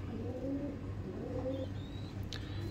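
A held pigeon gives soft, low cooing phrases, a few repeated coos close by over a steady background hum, with a brief faint chirp near the end and no speech.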